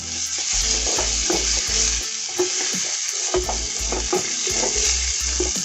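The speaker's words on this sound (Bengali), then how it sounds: "আবারও ভালো করে মিশিয়ে নিচ্ছি।" Ginger and cumin paste fries in a pan for a chana paneer masala, with a constant loud sizzle and rhythmic scraping strokes of a spatula stirring in quick repeated bursts, close and alone.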